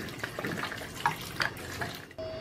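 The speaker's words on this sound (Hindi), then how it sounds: "इसके ऊपर ठंडा पानी डाल देंगे।" Cold running water splashes and patters over boiled noodles sitting in a strainer, a steady close-up stream that stops abruptly near the end.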